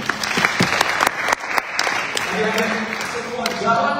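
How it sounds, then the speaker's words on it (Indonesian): A congregation applauds during a church sermon, with dense clapping rising at the start and then settling under a preacher's continuing voice and background music. "Tepuk tangan buat Tuhan."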